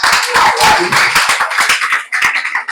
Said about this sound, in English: Please let us give him another round of applause.